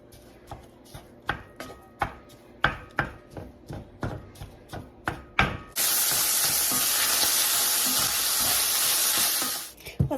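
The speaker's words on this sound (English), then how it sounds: "The first thing we are going to do for this cheeseburger soup is brown up our hamburger meat." Hamburger meat for cheeseburger soup hits a hot pan and browns with a loud, steady sizzle that lasts about four seconds. Before it comes a run of crisp, rhythmic knife chops on a cutting board.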